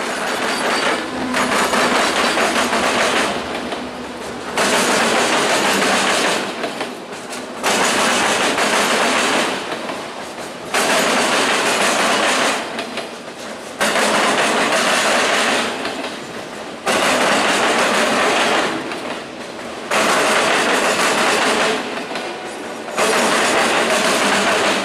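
An ROX freight train traveling on rails passes close by, its wagons producing loud, steady rumbling with regular clickety-clack pulses every few seconds as wheels cross rail joints, with no talking.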